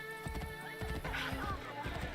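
Horse hooves clip-clopping at a steady trot in Assassin's Creed Brotherhood, close and moderately loud, with a whinny and game ambience mixed in.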